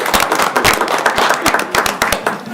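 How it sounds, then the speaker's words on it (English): A small audience at an evening meeting claps for an introduced guest, sharp distinct hand claps in a loose irregular rhythm, fairly close and steady throughout. "clap for him too"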